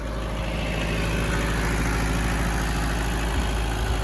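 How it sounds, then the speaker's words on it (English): A Mitsubishi D2650FD diesel tractor engine idles steadily up close, a continuous low, even rumble with a throbbing pulse that holds level throughout, alone with no voices. "the engine just runs, it just purrs. It's a diesel"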